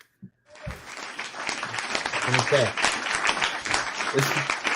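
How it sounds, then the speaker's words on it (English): A sitcom-style cheering and applause sound effect swells up after a brief spoken phrase, bringing dense clapping with crowd cheers and whoops that stay loud and continuous to the end. "It's just a continuous cheer and applause"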